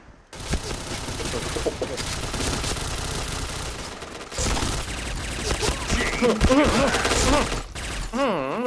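Sustained automatic fire from an AS Val rifle in the Point Blank shooter game, a dense rapid burst running nearly nonstop with brief breaks, with game effects and faint voice sounds layered on top.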